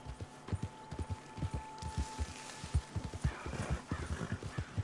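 A horse gallops in the Red Dead Redemption 2 video game, its hooves beating a fast, steady clip-clop rhythm. A whinny rises briefly partway through, and faint game ambience sits underneath.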